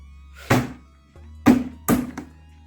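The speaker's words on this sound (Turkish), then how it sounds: "Şöyle elinizle vurun." Three hollow thunks as a hand strikes the bottom cover of a Bosch dishwasher into place, evenly spaced with short pauses, loud and close.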